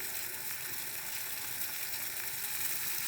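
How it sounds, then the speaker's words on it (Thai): Tilapia simmers in a pot of turmeric soup, giving a steady, soft bubbling and hissing boil that stays constant and fairly quiet throughout, with no voices. "ปล่อยไว้อย่างนั้นแหละ ให้เดือดจนปลาสุก"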